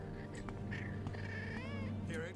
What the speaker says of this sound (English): summon a cat from the cat hole